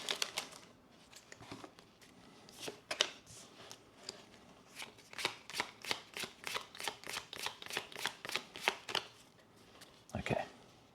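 Trading card booster packs are opened and the cards are handled close up, producing a quick rhythmic series of crisp snaps, flicks and rustles that grows denser toward the end.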